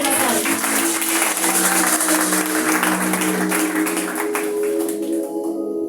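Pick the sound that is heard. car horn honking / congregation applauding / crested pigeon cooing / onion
congregation applauding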